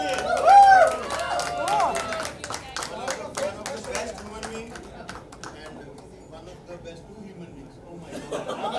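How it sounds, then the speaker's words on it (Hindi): At a grand birthday party, a crowd gives the couple a burst of close, dense clapping that thins to scattered claps, with laughter and chatter mixed in. "जोरदार तालियां दोनों के लिए"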